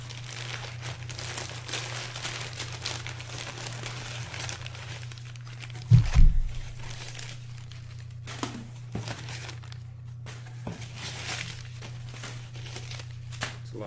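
Packing paper being unwrapped from a shipped package of manga and figures, soft crinkling and rustling close by with a sharper crunch midway, over a steady low hum.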